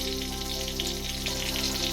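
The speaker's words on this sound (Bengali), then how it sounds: "এখানে আমাদের ব্রেকফাস্টের জন্য একটু বেগুন ভেজে নিচ্ছি" Eggplant (brinjal) slices fry in oil in a pan in a home kitchen, a steady close sizzle running over a constant low mechanical hum, with no voices.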